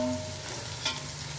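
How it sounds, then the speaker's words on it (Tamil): Onions frying in a pan until golden brown for a Seeraga Samba mutton biryani, giving a steady, moderate sizzle with faint stirring and no talk. "வெங்காயம் நல்ல கோல்டன் ப்ரௌன் கலர் அளவுக்கு வதங்கட்டும்."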